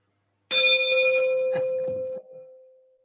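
A single bright ring from a wine glass struck hard as a meeting bell, a sustained clear tone that slowly fades away after the hit.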